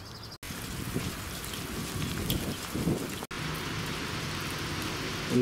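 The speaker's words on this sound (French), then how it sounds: "alors que la grêle tombe abondamment" Hail and heavy rain pour down steadily on Avenue Champollion, a city street in Dijon, France, a dense continuous hiss of drops hitting pavement and surfaces, close and even, with no voices.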